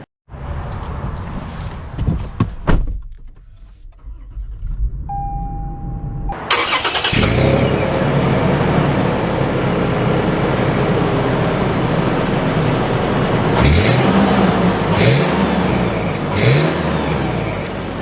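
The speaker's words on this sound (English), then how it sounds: "So, setting off here in the 4Runner Limited." A 2022 Toyota 4Runner Limited starts with a brief crank and catch, its engine settling into a steady idle hum, then pulls away with a loud sustained drive and rising revs, close inside the cabin.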